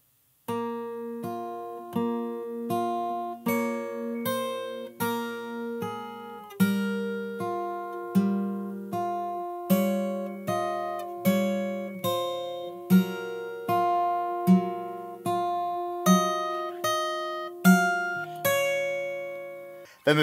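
A full section of a song played fingerstyle on acoustic guitar, with evenly spaced picked notes over a pulsing bass line, close and moderately loud, and no voice.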